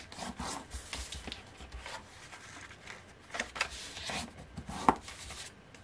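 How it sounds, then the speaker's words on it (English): Scored paper for an Easter egg gift bag is burnished with a tool, giving soft, close, repeated rubbing and scraping strokes in an uneven rhythm, with one sharper tap near the end. "So let's burnish up all of this."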